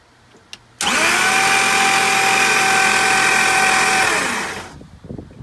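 A 2013 Super Air Nautique boat engine with its spark plugs removed cranks over on the starter with a loud, even, mechanical whir lasting about four seconds, then spins down.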